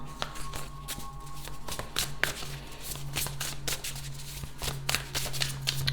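An oracle card deck is shuffled by hand, close and clear, in quick repeated riffling bursts with soft taps between them, and no talking.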